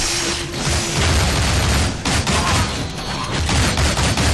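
Sustained gunfire in the side-scrolling action game Shank, loud and dense, a continuous barrage of shots with mechanical clatter layered over steady background noise, no voices.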